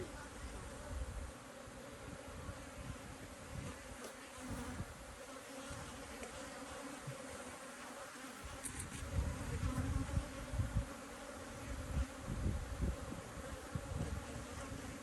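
Honeybees hum in a dense, continuous drone around open hive frames during a mite treatment inspection, heard close and steady, with occasional handling bumps.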